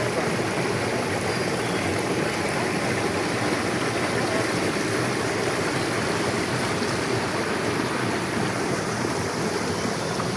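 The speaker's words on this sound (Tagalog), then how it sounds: "Ayan ang tubig, oh." Water rushes and churns steadily beside a boat, a loud, continuous broadband wash with no pauses and no voices over it.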